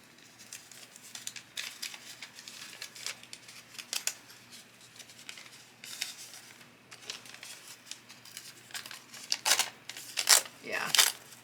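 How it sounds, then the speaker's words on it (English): Paper being torn away from stitched paper-piecing fabric blocks, a series of dry rips and crinkles close by, growing sharper and louder toward the end, with no talk over it. "if you turn down your stitch, then it makes it easy to tear it off"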